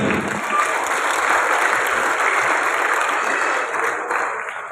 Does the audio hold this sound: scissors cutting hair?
no